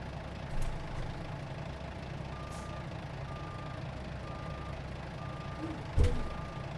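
A semi truck in American Truck Simulator backing a trailer, its reversing alarm giving evenly spaced beeps over a low idling engine rumble, with a couple of brief thumps.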